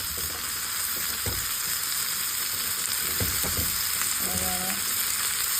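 Onions sautéing in a pan for a Kerala-style onion chammanthi, a steady broad sizzle throughout with a few clinks and scrapes of stirring near the middle and end, close and fairly loud.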